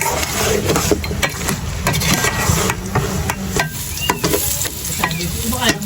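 Vegetables sauté loudly in a pan with a dense, steady sizzle, while a utensil stirs and scrapes them with quick, repeated knocks. It plays alone, with no talk.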